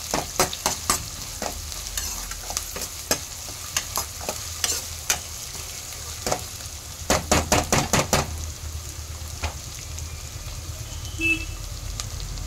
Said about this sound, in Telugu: ఆనియన్ అయితే మంచిగా వేయించుకోవాలండి,